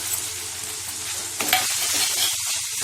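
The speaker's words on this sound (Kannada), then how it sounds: "ಈಗ ಇದಕ್ಕೆ ಸ್ವಲ್ಪ ಬೆಂಡೆಕಾಯಿ ಹಾಕೊಳ್ಳೋಣ, ಫ್ರೈ ಮಾಡಿರೋಂಥದ್ದು." Fried okra tipped into a pan of softened tomatoes sets off a loud, steady sizzle and frying hiss, with a brief stirring clatter partway through and no talking.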